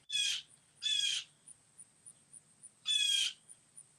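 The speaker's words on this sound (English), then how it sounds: "that's my blue jays" Three harsh, loud squawking blue jay calls, two close together and one after a pause, with faint rhythmic ticking in the quiet gaps.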